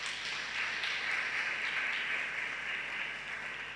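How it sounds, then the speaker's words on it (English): Audience applause at a Creditinfo fireside chat: steady, dense clapping from a crowd that holds at an even level for the whole stretch, with no voices over it. "I wanna pause there and first ask you to give them a round of applause anyway."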